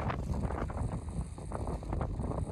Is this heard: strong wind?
yes